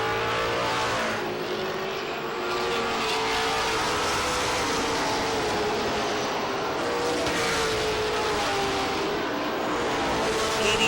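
Pro stock race cars roaring around an oval speedway during a 100-lap night feature, a loud continuous engine drone with passing surges, no voices.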